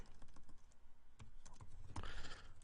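Someone types code for an HTML5 button on a computer keyboard, producing quick, quiet clusters of key clicks at close range with no talking.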